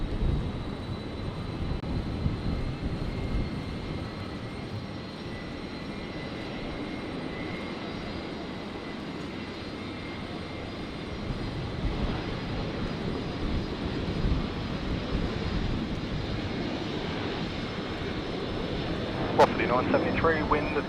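An airliner on final approach to Brisbane Airport gives a steady, broad engine roar that holds for the whole stretch at moderate loudness, with a brief sharper tone near the end.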